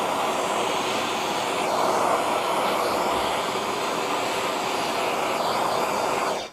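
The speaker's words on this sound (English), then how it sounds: "just get a propane torch and give it a quick once over and it'll actually melt all" A propane torch flame sweeps over an acrylic router base to melt off debris, giving a loud, close, steady roar that holds evenly throughout and then cuts off abruptly at the end.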